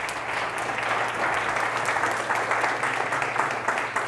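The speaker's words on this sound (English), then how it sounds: "let's clap it up for the speakers one more time" A conference audience applauds its speakers, dense continuous clapping from many hands filling a room, loud and steady throughout with no break and a few faint voices mixed in.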